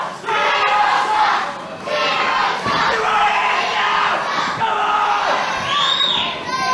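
A packed Irish Whip Wrestling crowd at a 2005 tag match shouts, jeers and whoops continuously, loud and close, with shrill voices rising above the din throughout.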